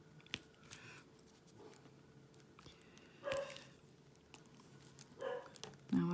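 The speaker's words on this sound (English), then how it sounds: "Now I can hear Monty barking." A dog named Monty gives a few faint, distant barks in separate short bursts, heard indoors against a quiet background with light handling noises.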